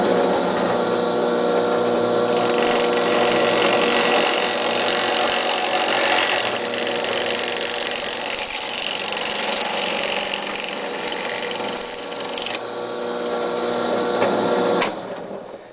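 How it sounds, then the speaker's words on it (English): A drill press runs steadily in a hobby modeling workshop, giving a continuous mechanical whir with gear-like rattling and tonal hum that shifts slightly in pitch before cutting off near the end, with no talking. "I've just demonstrated an interesting technique you can do with a drill press"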